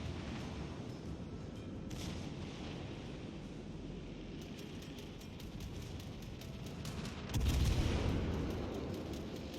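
Warship artillery in World of Warships Legends fires on the battleship Richelieu: a low, rumbling background gives way to one heavy, booming salvo that swells and slowly fades, distant and fairly quiet overall.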